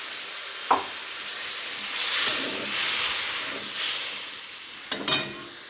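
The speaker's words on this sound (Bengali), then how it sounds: "একটু হলুদ দিয়ে দিলাম। দেখো কি সুন্দর তেল ছিটিয়ে বেরিয়ে এসছে।" Turmeric hits hot oil in a pan for a tilapia fish curry, setting off a loud hissing sizzle that swells and fades, with sharp spattering pops near the start and end.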